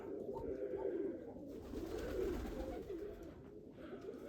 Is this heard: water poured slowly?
no